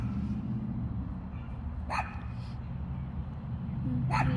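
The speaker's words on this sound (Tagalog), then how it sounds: "Ang bilis talaga tumahol ng asa na to." Zoe, a pet dog, lets out two short sharp barks, far off and faint over a steady low rumble of background noise outdoors on a morning walk.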